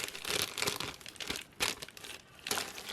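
A plastic bag is unpacked from a Super Nintendo game purchase, giving loud, close bursts of crinkling and rustling in uneven clumps, with no talk.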